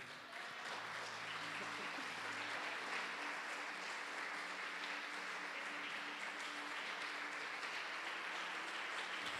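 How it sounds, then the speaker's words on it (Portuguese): A church congregation applauds together during a worship service, sustained dense clapping filling the room at steady volume, with soft musical tones running underneath. "Você pode aplaudir ao Senhor?"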